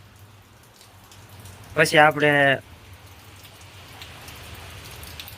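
Rain falls steadily outdoors in a soft, even patter that runs the whole time, with someone speaking briefly near the middle.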